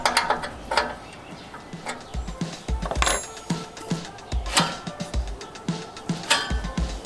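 Lawn mower cutting-height mechanism being adjusted by hand: a string of sharp metallic clicks and ratcheting snaps, close and fairly loud, spaced irregularly with short thumps between them, no talking.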